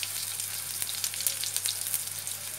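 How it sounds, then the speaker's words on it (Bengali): Ground garlic paste frying in hot oil in a pan for a dhaba-style mutton curry, giving a continuous close sizzle with small crackling bursts and no talking. "বেটে রাখা রসুনটা দিয়ে দিলাম।"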